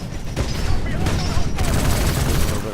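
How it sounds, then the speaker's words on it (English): Rocket salvo fired from a Titan mech in Titanfall: a dense, continuous barrage of loud whooshing launches and booming impacts with no breaks, close and busy throughout. "A little bit of a rocket salvo"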